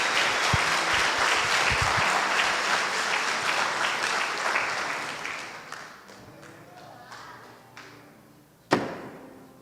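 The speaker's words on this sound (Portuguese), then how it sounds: "Aplauda, por favor." A church congregation bursts into applause at Mass, loud and dense at first, then thinning into scattered claps that fade out, with one sharp thud near the end.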